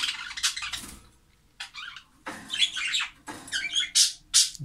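Pet birds chirp and squawk in quick bursts, bright and close, with a few sharp calls near the end and no talking.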